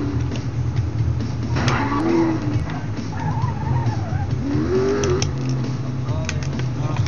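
Engine roaring and tires squealing as a car in the GRID racing game accelerates under turbo boost, a loud continuous rising drone with skids, alongside talk.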